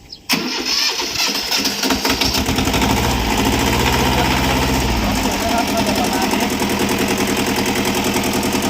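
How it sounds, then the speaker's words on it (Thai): A small Shibaura 13-horsepower four-wheel-drive tractor's diesel engine starts up and settles into a loud, steady idle, its rapid chugging continuing unbroken, with someone speaking briefly over it. "มาฟังเสียงเครื่องยนต์กันนะครับ"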